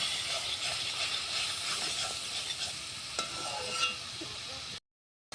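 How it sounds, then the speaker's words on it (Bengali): Steady, crackling sizzle of carrot lightly frying in a pan with occasional stirring scrapes, close and continuous, cutting to silence near the end. "এখন আমি এটা হালকা ভেজে নেব"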